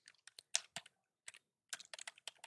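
Quiet, close keystrokes on a computer keyboard while Java code is entered, irregular clusters of taps with a short pause in the middle.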